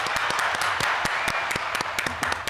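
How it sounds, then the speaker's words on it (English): Scattered applause from a small group, with sharp irregular claps fairly close and moderately loud, running steadily with no talk over it. "Big applause"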